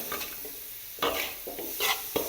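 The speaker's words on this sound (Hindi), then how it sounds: "इस तरीके से हमने इसकी करनी है भुनाई 3 मिनट तक।" Vegetables, spices and chicken powder being stir-roasted in a pan for vegetable rice, a soft steady sizzle broken by a few louder scraping stirs of the spoon, close and alone with no talk.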